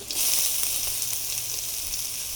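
Bay leaves, chilli, potato, cumin and garlic sizzle steadily in hot oil in a pan, a loud, continuous hiss with faint crackles and no talking.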